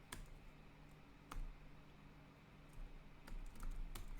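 Computer keyboard keys tapped at a desk while working in a network device command line, with a few sharp, distinct clicks spaced out over a steady low background hum, quiet and close.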